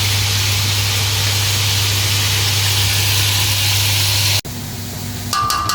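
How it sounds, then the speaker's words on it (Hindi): Chicken fries in two large degchi pots for Sindhi chicken biryani, giving a loud, steady sizzling hiss over a low hum; it cuts off abruptly near the end, followed by quieter noise and a few clinks. "ये 2 देगचों में चिकन फ्राई हो रहा है"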